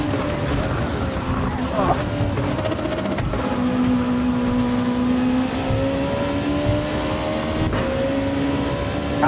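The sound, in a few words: Porsche race car engine in Gran Turismo 7 video game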